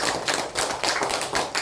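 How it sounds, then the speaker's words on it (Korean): A church congregation at a Sunday worship service claps together in a loud, steady rhythm of sharp, evenly spaced beats, with no talking over it. "다시 하나님 영광의 박수 올리겠습니다."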